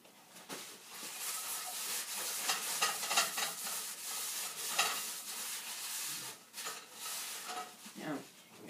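Biscuit dough is mixed by hand in a bowl, a continuous soft scraping and stirring with uneven rhythm, close and fairly quiet.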